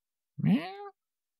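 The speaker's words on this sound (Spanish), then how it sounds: "The cat is on the ground." A single cat meows once, a short rising then falling cry lasting about half a second, clear and close against silence.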